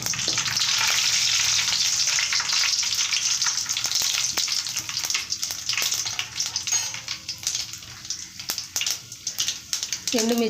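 Tempering spices crackle and sizzle in hot oil for a South Indian gongura chutney, a loud, steady close frying hiss that eases into sputtering pops, with a voice speaking briefly.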